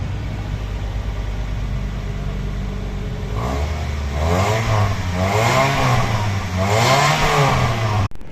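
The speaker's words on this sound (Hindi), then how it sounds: "गाड़ी का साउंड आप लोग चेक कर लें।" A 2012 Toyota Corolla GLi engine idles steadily, then revs up several times in rising and falling surges, close by with no talking.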